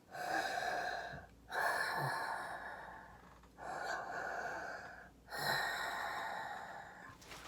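A person imitates heavy mechanical mask breathing: four slow, loud, rasping breaths alternating in and out, close up, with short pauses between.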